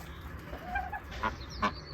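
Ducks in a backyard garden with raised vegetable beds give a few short, faint quacks and honks, spaced irregularly against quiet outdoor background noise.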